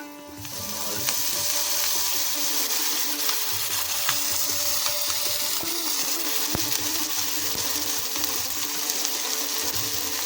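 Garlic, chilli and tomato frying in oil give a steady, loud sizzle, close up, with occasional faint stirring clicks and no speech.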